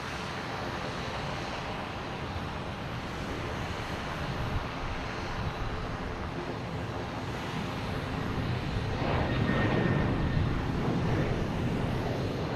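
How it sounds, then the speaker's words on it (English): Southwest Boeing 737-8 airliner taking off at Boston Logan, a distant, steady jet roar that swells slightly louder toward the end, heard alone without talk. "We do have Southwest heading to Dallas in a 737-8"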